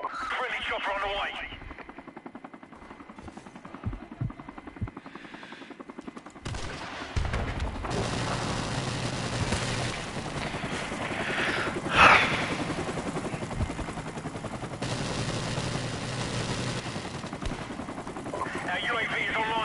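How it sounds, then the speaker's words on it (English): A friendly helicopter in the Call of Duty video game thrums under bursts of machine-gun fire and scattered gunshots, with a loud spike midway and game voices talking over the battle. "Friendly chopper on the way."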